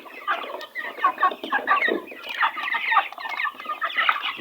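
Noiler and broiler chickens cluck busily together in a pen, a dense, continuous chorus of overlapping clucks and squawks from several birds at close range with no talking.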